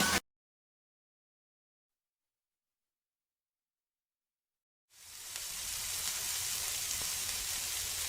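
Steaks, a filet mignon among them, sizzle on a grill: a steady, soft crackling hiss that starts suddenly after a few seconds of silence and keeps going at an even level, with no voices over it.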